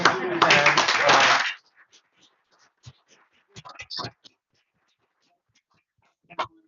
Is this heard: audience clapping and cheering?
yes